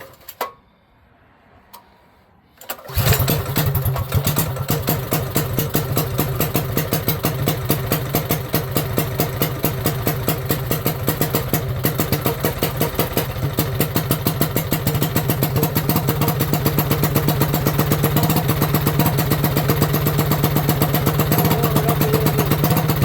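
A Coleman B200rsv minibike engine fitted with 18 lb valve springs, run without its fuel tank, stays quiet for a few seconds, then fires and settles into a loud, steady, close-up idle with a rapid chugging beat and mechanical clatter.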